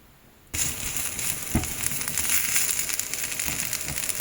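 Potatoes sizzling and crackling steadily in a hot frying pan, starting abruptly after a moment of near silence and continuing loud and even.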